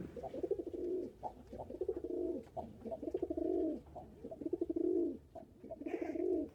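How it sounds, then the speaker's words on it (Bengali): Domestic pigeons in a small loft housing a few breeding pairs, some sitting on eggs or with young chicks, coo steadily in repeated rolling phrases, soft and fairly close, with no talk. "এই ঘরে মাত্র কয়েক জোড়া পায়রা থাকে যে এক জোড়া ডিম নিয়ে বসে আছে"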